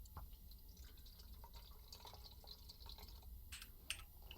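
Liquid pouring and dripping into a cooking pot in The Long Dark survival game, a soft continuous trickle with scattered drips and a faint splash near the end.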